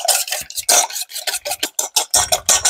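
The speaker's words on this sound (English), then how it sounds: "I'm going to go ahead and whisk these up a little bit." Two eggs are whisked in a mixing bowl, giving a quick, uneven run of scraping, rattling strokes against the bowl. The strokes are close and fairly loud, with no talking.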